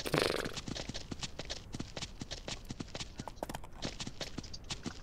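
Horse hooves clip-clop in a steady, quick rhythm in the farming game Ranch Simulator, close and fairly quiet, with no talk over them.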